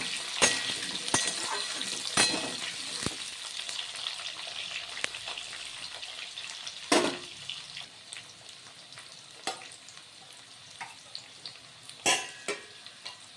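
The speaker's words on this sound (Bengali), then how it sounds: "এবার পেঁপেগুলো একটু হালকা নাড়াচাড়া করে ফোড়নের সঙ্গে আমি ভেজে নিচ্ছি" Papaya pieces fry with tempering spices in a pan, keeping up a steady crackling sizzle while a spoon is occasionally stirred through, with sharp clinks against the pan scattered throughout.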